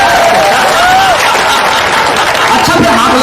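Loud, dense audience clapping at an open-air Hindi poetry gathering on a Dussehra ground, a continuous roar with some cheering and voices mixed in.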